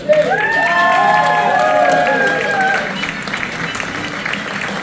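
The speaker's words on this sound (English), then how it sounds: "Give him a round of applause." An audience applauds and cheers for a band member on stage, loud and continuous at first and then fading, with a few shouts and whistles rising above the clapping.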